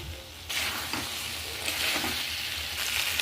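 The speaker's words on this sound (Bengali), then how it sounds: "এবার আমি ভালো করে মশলাটা কষিয়ে নেব" Masala spice paste frying hard in a pan for a vegetarian Bengali gathi kochu rosa, a steady loud sizzle with brief bursts of stirring, no talk.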